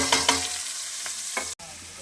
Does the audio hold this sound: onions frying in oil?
yes